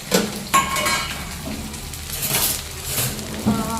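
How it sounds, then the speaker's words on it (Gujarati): Okra (bhindi) frying in a pan, with a soft steady sizzle under sharp metallic clanks of utensils against the cookware, and a brief voice now and then. "ભીંડા તળ દઉં પહેલા ભીંડા તળી લેવાના"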